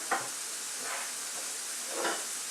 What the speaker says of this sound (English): So now that it's sauteing, you hear that?